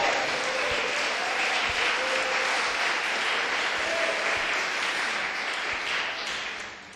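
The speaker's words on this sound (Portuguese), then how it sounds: "Pode dar uma salva de palmas para Jesus se você quiser." A church congregation claps together in steady, dense applause that fills the room, loud and sustained before fading slightly at the end.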